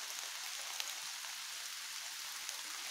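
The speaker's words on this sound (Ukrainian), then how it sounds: "Пішов дощ, то я там ховаюся." Steady rain falling on a tarp tent over a camp, a soft constant patter close by with occasional sharper drops, no voices.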